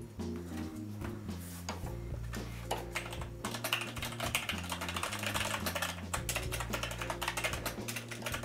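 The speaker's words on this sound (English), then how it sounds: "I'm just typing away in a little chat" Computer keyboard typing in a post-race chat during online racing in the Grand Prix Legends sim, rapid steady keystrokes running throughout under a loud, continuous tonal backdrop of game sound.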